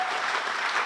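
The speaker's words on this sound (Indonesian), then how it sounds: "Beri tepuk tangan buat Tuhan Yesus" A church congregation claps together in a brief, dense burst of applause, loud and even, with no voices over it.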